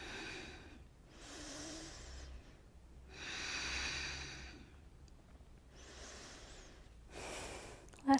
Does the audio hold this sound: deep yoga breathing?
yes